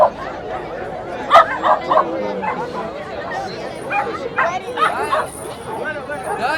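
Dogs of various sizes at a World Dog Day show event in a Sulaymaniyah shopping mall bark and yip in short bursts amid crowd chatter and nearby talk.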